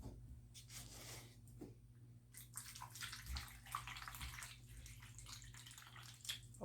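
Water being poured into a small tabletop fountain, a faint continuous splashing trickle with soft gurgles, quiet and close, no talking.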